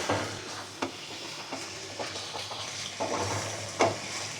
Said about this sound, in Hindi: इसे तकरीबन 2 मिनट तक फ्राई करेंगे ताकि इसकी अच्छे से महक निकल जाए।